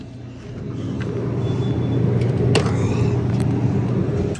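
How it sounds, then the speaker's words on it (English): A heavy engine rumbles loudly and steadily close by, a deep continuous drone with a faint hiss on top. "Your truck is so loud!"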